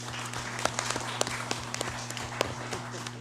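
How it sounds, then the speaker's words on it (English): Scattered applause rises in a congressional session hall for a deputy chief of mission of the FSM Embassy in China: sparse individual claps over a steady room hum. "Let's please give him a round of applause"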